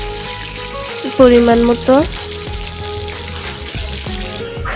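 Chopped onions dropped into a hot pot of oil and frying, with a steady close sizzle throughout. Someone speaks briefly over the cooking, and a few clanks of utensils sound in the background.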